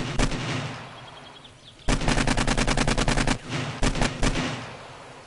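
Rapid bursts of automatic gunfire from the video game 7 Days to Die: one long rattling string of shots, then two shorter bursts, loud and close with no talking.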